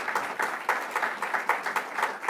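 An audience applauds at a New York state announcement event, light scattered clapping with a quick irregular rhythm, fairly faint and distant.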